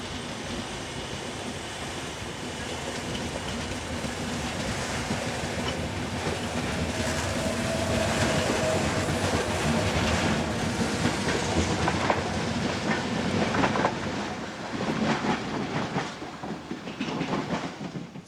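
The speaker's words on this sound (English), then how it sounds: "This Class 470 unit heads southbound for Madrid" Class 470 electric multiple unit train passing on a Spanish line southbound toward Madrid, a steady loud roar of wheels and rails with rhythmic clickety-clack building through the middle and continuing to the end, no voices.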